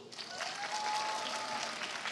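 A festival crowd at a Korean cultural event in Paris applauds a K-pop contest team. The clapping is steady and fairly faint, with a thin tonal note briefly running through it.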